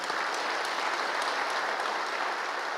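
Audience at a Catholic men's conference bursts into sustained applause, a dense, even roar of many clapping hands throughout, fairly close and loud with no speech over it.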